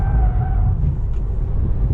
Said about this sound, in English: Look at that drift right there. We're full power out.